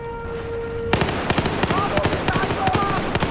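Shotgun fire in Battlefield 4 multiplayer, a quick string of sharp, punchy shots mixed with other weapon cracks in the fight, loud and close, with an electronic tone heard briefly before the shooting starts.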